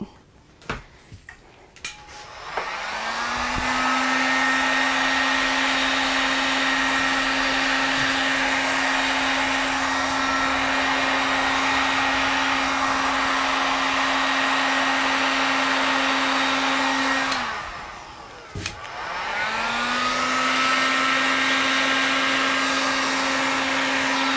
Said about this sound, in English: What I'm going to do is I'm going to get my heat gun and I'm going to lace it.